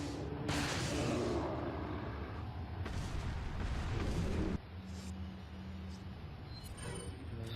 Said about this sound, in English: Oh, getting out the magnum.